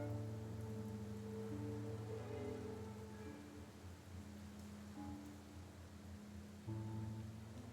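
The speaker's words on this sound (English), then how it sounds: "Nikki, it looks like it's going to rain." Steady soft rainfall hisses in the Infinity Nikki video game, a faint, even wash of drops under quiet sustained music tones.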